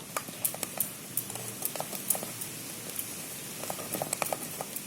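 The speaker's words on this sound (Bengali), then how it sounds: "নারকেলটা এর সঙ্গে ভালো করে মিশিয়ে নেব" A spoon clinks and scrapes against a bowl as grated coconut is stirred into a palm fruit mixture, giving irregular light taps and a soft wet patter that run steadily throughout, with no talking.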